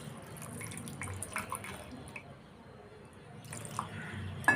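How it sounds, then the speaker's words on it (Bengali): Water is poured into a cooking pan holding prawn and fish in pumpkin leaves, a soft trickling and splashing sizzle that fades midway then picks up again, moderately close and fairly quiet. "জল অ্যাড করলাম"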